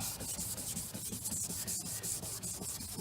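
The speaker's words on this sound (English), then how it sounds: "You're going to need some water, of course, and you're going to start sanding." Continuous rhythmic wet sanding of car paint with water, back and forth, a gritty scraping that stays close and steady throughout.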